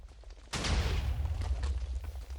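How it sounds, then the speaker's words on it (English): A Minecraft 1.20.4 TNT parity cannon fires in a game, a sudden loud burst of explosions that swells and rumbles on without talk. "There's not really much stopping this cannon."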